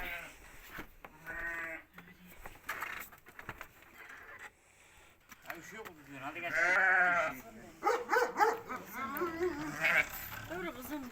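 Sheep bleat repeatedly, wavering cries overlapping with people talking and calling nearby.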